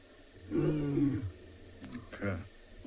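A wild lion roars on safari at sunset, a deep resonant call swelling then fading, followed by shorter grunting roars, fairly close and loud against quiet bush ambience.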